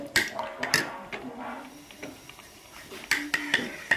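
An egg cracked and then beaten in a bowl to make ras malai dough in a rural Pakistani village kitchen, heard as a few sharp clinks and taps with softer whisking scrapes in between, fairly close and quiet.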